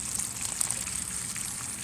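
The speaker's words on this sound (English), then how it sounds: "here's where the water is draining out from the pump" Water draining out from a pump at a plantation on a wet day: a steady, soft hiss of gushing, trickling water, close and continuous, with no talk.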